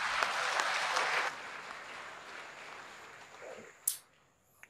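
Brief burst of applause from an audience at an Indonesian public event honoring the human rights minister, loud at first then fading out after about a second, followed by quiet room noise and a couple of sharp knocks.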